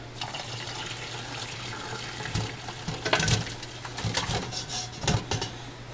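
Chicken broth is poured from a pot into a container, a splashing, gurgling liquid stream that comes in uneven bursts over a low steady hum, close by with no talk.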